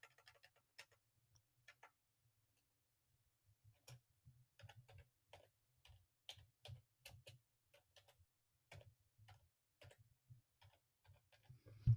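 Slow, irregular keystrokes tap on a computer keyboard, quiet and close, with pauses between bursts of typing.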